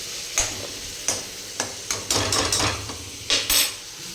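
Food fries in a pan under a soft sizzle, broken by a string of sharp metallic clacks and scrapes from a spoon stirring against the pan, roughly one every half second, close and fairly loud.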